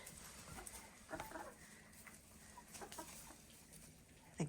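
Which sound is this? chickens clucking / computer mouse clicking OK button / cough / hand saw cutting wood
chickens clucking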